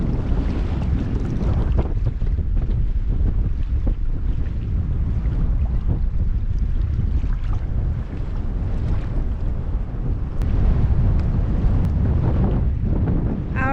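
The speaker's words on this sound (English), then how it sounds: "got a bit of wind at the moment" Strong wind buffets a sailboat riding at anchor off Ponta Delgada in the Azores, a loud continuous roar of gusts hitting the microphone over sloshing water and faint creaks from the boat.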